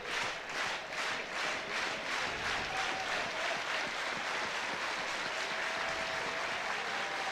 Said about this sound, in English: this crowd is electric early on here